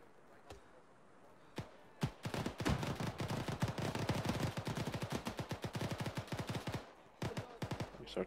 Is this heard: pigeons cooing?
no